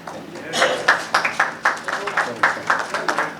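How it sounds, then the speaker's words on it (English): A small group at a celebrity wellness event claps in a sparse, uneven rhythm of distinct hand claps, fairly close, with voices murmuring underneath. "And then to Representative Lashan Ford, please give a big round of applause"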